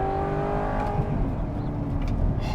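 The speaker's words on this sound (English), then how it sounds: "Mid-engine V8, listen to that." An Audi R8 with a mid-engine V8 revs steadily with a deep, sustained engine roar and layered harmonic drone, loud and close throughout, without any talking.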